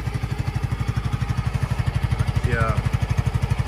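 Brand-new 2024 motorcycle engine idling close by with a steady, even low throb, a voice talking briefly over it.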